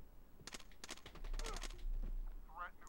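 Gunfire in the Tom Clancy's Rainbow Six video game: several sharp shots in quick bursts, fairly close, followed by a brief voice-like sound at the end.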